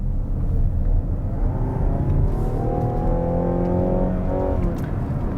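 Mazda CX-60 plug-in hybrid SUV's combustion engine coming in under acceleration, a deep steady drone with tones rising in pitch as the engine revs up, heard from inside the cabin.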